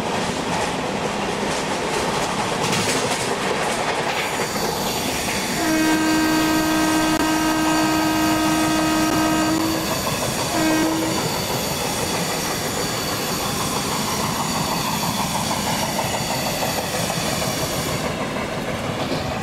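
An Indian Railways express locomotive in the Train Simulator game slows down. A steady loud rumble and hiss carry throughout, with a sustained tonal horn-like whine and clanking midway, and no speech.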